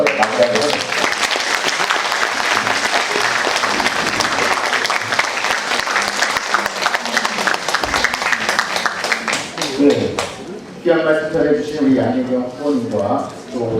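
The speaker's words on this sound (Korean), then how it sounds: "힘찬 박수로 토론을 마무리하도록 하겠습니다" An audience at a mayoral candidates' social welfare policy debate gives a long, loud round of applause, dense clapping from many hands that thins out near the end as a voice begins speaking.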